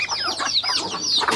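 Chickens clucking and squawking close by on a pig farm, a steady run of overlapping short calls with no talk.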